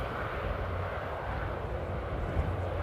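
An Embraer E190 jet taxis after landing at Amsterdam Airport, a steady, fairly faint engine rumble and whine that holds evenly throughout with no talk.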